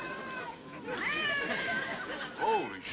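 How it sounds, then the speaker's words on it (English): Several cats meow in a television comedy scene, with a run of drawn-out, wavering cries followed by a sharper, rising meow near the end, heard over a steady background. "Holy smokes, more cats!"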